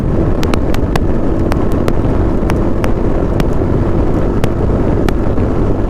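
A 2024 Yezdi Adventure motorcycle cruises on the highway at about 100 km/h, near 6000 RPM. Loud, constant wind roar buffets the microphone over a steady engine drone, with scattered sharp ticks and clicks and no voices.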